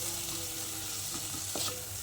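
Tomatoes cook down toward a purée in a pan, sizzling steadily while a spoon stirs through them with soft scraping strokes near the end, close and continuous without any talk.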